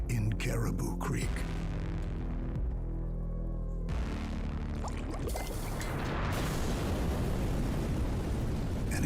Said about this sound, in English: an explosion lights up the night.